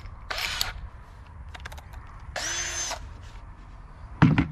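A power drill bores a hole into a plastic sacrificial bucket in short separate bursts of whirring, with quiet pauses and small clicks between them and a louder knock at the end.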